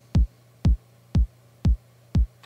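Roland 909 bass drum sample run through FabFilter Saturn 2 distortion: five punchy, evenly spaced kicks with a gritty, saturated attack above a low steady hum, played alone.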